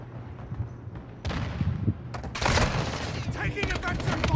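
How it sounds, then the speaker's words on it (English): Video-game gunfire, bursts of rapid shots and heavy booms that start mid-clip and grow into a loud, sustained barrage. "Taking offensive fire."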